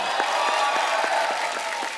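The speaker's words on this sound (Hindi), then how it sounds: "एक बार जोरदार तालियां हो जाए मिस्टर सैफ अली खान, रानी मुखर्जी और शर्वरी" Studio audience applause on a Hindi comedy talk show, a steady, dense wash of clapping that holds at an even level for the whole stretch.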